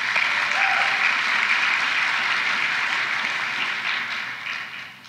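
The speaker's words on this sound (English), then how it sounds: "Let's give them a round of applause." An audience at a cultural recognition celebration claps for performers, a dense, steady wash of applause that carries on before tapering off at the end.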